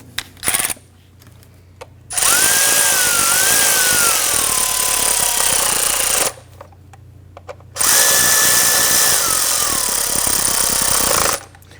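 A power tool snugging down valve cover bolts on a 2017-2020 Hyundai Elantra, two long, loud, steady runs of about four seconds each with a rising and falling whine, separated by a short pause after a brief blip.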